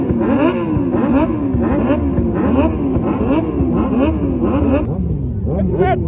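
Motorcycle engine revved repeatedly in sharp, rising bursts with a rough, rhythmic exhaust note, loud and close, easing off near the end.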